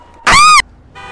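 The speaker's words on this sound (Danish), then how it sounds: "Ja, hvad dytter du af?" A car horn in a driving game gives one loud, short blast of about a third of a second, followed by a fainter tonal sound trailing off afterward, with no talk.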